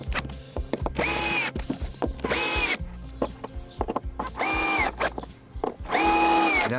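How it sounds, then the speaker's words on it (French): A power drill drives screws into floorboards laid on a slab, four loud whirring bursts of a second or so each, separated by short pauses with light clicks and handling sounds, close up. "Et on va finir de visser."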